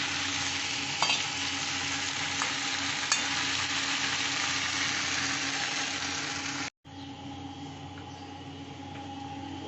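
Prawns and fish sautéed in a hot pan with jackfruit curry, a loud continuous sizzle with occasional stirring knocks, briefly cut off near the end before resuming.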